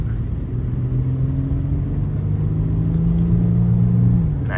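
An Infiniti G37 AWD accelerates on a snowy road, its engine droning loud and steady from inside the cabin, pitch rising slowly then dropping as it eases off, over road rumble with no talk.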